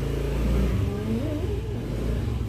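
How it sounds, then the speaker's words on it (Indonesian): Motorbike passing by, a brief engine revving up and sweeping past at moderate loudness with no voices. "ada motor"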